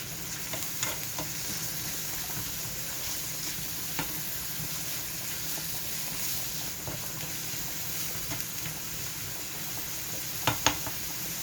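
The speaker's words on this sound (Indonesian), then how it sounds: "Kita tumis bawang merah dan bawang putihnya." Shallots and garlic sautéing in a pan, a steady, soft sizzle and crackle that continues throughout with a few light stirring clicks, no talking.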